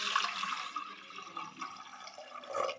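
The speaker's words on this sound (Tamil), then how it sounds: "பருப்பு எடுத்தாச்சு. தண்ணி ஊற்றிக்கலாம்." Water is poured into a pressure cooker onto lentils in a village kitchen, giving a continuous soft splashing and trickling stream, fairly quiet and close, with no voices.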